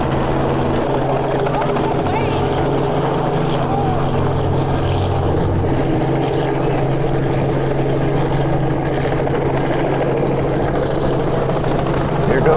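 A helicopter flies overhead at an egg drop event, its steady, loud rotor drone and engine hum continuous throughout with a faint murmur of people beneath it.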